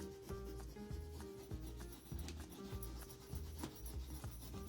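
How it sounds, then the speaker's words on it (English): Fingers rubbing off a transfer decal, a quiet close-up scrubbing with repeated short rhythmic strokes and faint gritty friction. "Takes a little bit of rubbing"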